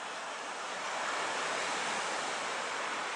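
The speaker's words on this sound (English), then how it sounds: "Just taking a shot of the ocean, Robert." Ocean waves breaking on a shore, a steady broad wash of surf with wind noise, loud and continuous throughout with no voices.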